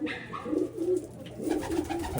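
A pigeon coos nearby, two soft rolling calls in quick succession, with faint background noise and no talking.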